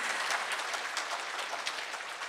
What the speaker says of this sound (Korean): 여러분 이럴 때 또 박수 한번 크게 보내주셔야죠.